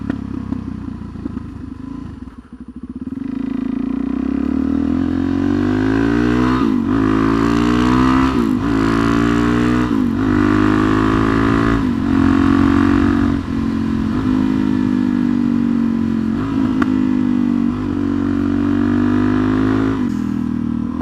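Suzuki DRZ440SM supermoto engine under way, a loud, steady exhaust drone whose pitch climbs and dips through moderate revs and gear changes, close and continuous for the whole stretch with no talking.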